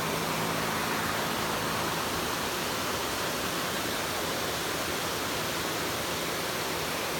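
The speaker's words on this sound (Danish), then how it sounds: "det vi ser her, det er normal vandflow i regntiden i Thailand" Heavy rainy-season runoff water in Thailand rushes past in a steady, loud, continuous roar with no pauses or voices.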